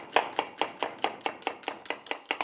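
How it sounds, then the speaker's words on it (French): A knife chopping onions on a cutting board, about a dozen crisp, evenly spaced cuts in a quick steady rhythm, close up and alone. "J'attrape mes oignons, je coupe les extrémités."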